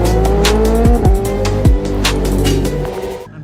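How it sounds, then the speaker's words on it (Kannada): A Triumph Daytona 675 with an SC Project exhaust roars loudly at close range, with a few sharp revs and throttle blips over a continuous engine drone before it cuts off abruptly. "Crazy exhaust bro."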